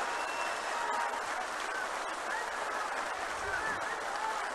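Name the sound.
audience applause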